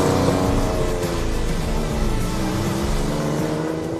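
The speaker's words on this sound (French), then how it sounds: "le son du moteur d'intérieur, incroyable" Porsche 911 Groupe 4 race car engine heard from inside the cockpit, a loud steady rumble with a rich harmonic drone that holds throughout without pause, idling and warming up.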